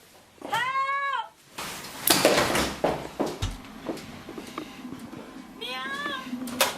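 Two drawn-out, wavering meows, one at the start and another near the end, with clattering and thumping noises between them; the meows are loud and close.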